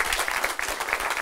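An audience claps on a Frisian-language television programme: dense, steady applause fills the whole short stretch with no voices over it.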